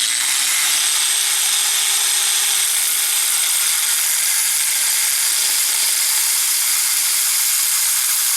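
A Harbor Freight cutoff tool slices through a crankshaft on an Ariens string trimmer engine. It gives a loud, continuous high-pitched grinding whine that holds steady for several seconds with no talking.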